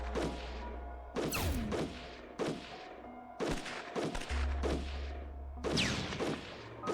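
Repeated impacts of unit gunfire in the strategy game Shadow Empire land as a series of heavy thumping shots and crashes, several overlapping blasts with whooshing tails, fairly even spacing over a low background hum.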